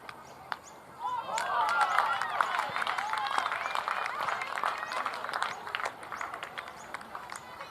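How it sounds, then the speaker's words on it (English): Scattered applause for the wicketkeeper at an under-19 women's Premier League cricket semi-final in Brisbane, moderate and outdoor, rising after a second and thinning out gradually, with faint voices underneath. "the applause for Wotherspoon's keeping just provided better commentary than I ever could"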